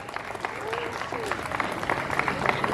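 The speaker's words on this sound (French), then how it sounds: "on peut l'applaudir s'il vous plaît" Audience applause at an Angola-themed gathering on Île-Saint-Denis, a steady patter of many hands clapping at moderate distance, with faint voices mixed in underneath.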